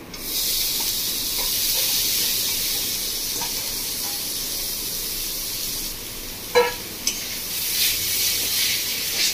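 Grated paneer stirred with frying onion masala over a low flame, giving a steady close sizzling hiss with a few faint scraping clicks.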